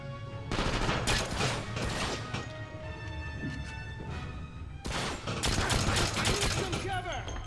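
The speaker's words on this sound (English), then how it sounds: "Damn it, I accidentally hit the reload button." Gunfire and mechanical weapon clatter from the PS2 version of the video game 007 Quantum of Solace during a barge level, with dense bursts of shots and reload clicks, loud and sustained, briefly thinning mid-clip before another heavy burst.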